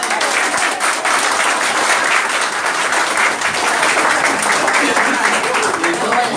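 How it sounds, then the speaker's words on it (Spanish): Dense, sustained applause fills a conference hall in Buenos Aires as the audience claps continuously and loudly, with crowd noise mixed in throughout. "Un aplauso para ustedes"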